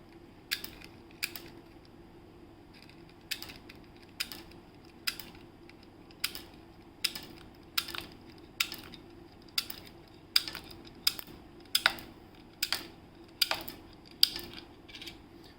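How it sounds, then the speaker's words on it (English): A loading tool levers rounds out of a Savage MK2 magazine, giving a series of sharp metallic clicks and snaps spaced about half a second apart, close and crisp over a quiet background, with no talk. "you basically lever forward, and it kicks the rounds out"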